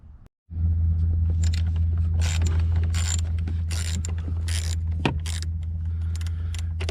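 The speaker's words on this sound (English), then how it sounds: "the first thing I'm going to do is going to remove this 10mm bolt" Metallic clicking and ratcheting with faint jangling as a 10mm bolt is worked loose on a 2015 Jeep Wrangler JKU during clockspring replacement, heard close over a steady low hum with no speech.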